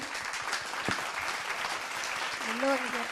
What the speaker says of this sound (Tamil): ஒரு உற்சாகமான கைத்தட்டு, பாராட்டு, வாழ்த்து